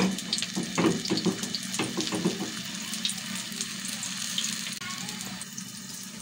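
An egg-coated burger kebab patty frying in a pan, a steady hissing sizzle with some lower bubbling and a few soft knocks, moderately loud and close.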